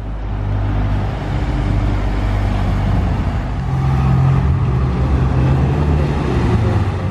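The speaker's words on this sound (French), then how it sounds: "Huracan Evo." A Lamborghini Huracan Evo supercar in a passing convoy of exotic cars rumbles by on the road, its engine tone swelling loud as it nears midway, then easing off amid surrounding traffic noise.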